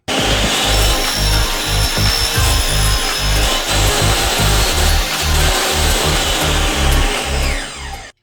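A power saw cuts steadily through wood while making a stand for a coffee filter holder. The loud whining buzz holds for about eight seconds, then spins down and stops.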